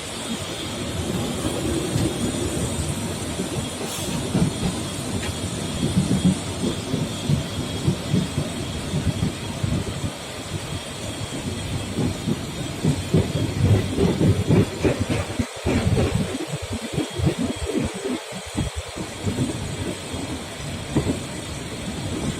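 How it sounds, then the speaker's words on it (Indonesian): A KRL Commuterline electric train runs on tracks in Jakarta between Tanah Abang and Karet, giving a continuous loud rumble with rail clatter and occasional rhythmic clicks, heard from inside the carriage. "Kereta mulai berjalan."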